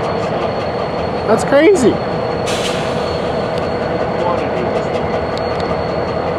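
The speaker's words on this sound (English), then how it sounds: "Just kicked that whole thing. It just kicked that whole train." Rail cars are kicked by a locomotive in the Denver North train yard, giving a steady rolling rumble with a short squealing, clanking burst partway through as a voice speaks briefly.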